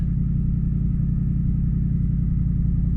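A Land Rover Discovery 3 with a 4.4 V8 idles steadily on a cold start at raised revs, giving a continuous low, even rumble with a regular pulsing throb, close and unchanging, with no voices.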